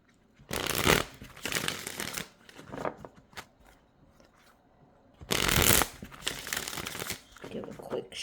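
Cards are shuffled close by in several quick riffling bursts separated by short pauses.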